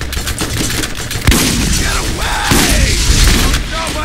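Rapid bursts of automatic gunfire and explosive booms from the co-op shooter game Borderlands, dense and continuous with sharp cracks layered over a busy battle mix.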